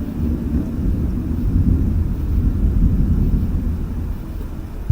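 Low, continuous rumble of thunder rolling through a thunderstorm, steady and fairly loud across the whole stretch with no voices over it.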